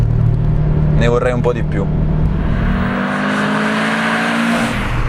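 Engine of a 2012 Subaru Impreza WRX STI drones loud and close in cabin, climbing steadily in pitch toward the rev limiter, with someone speaking briefly over it early on.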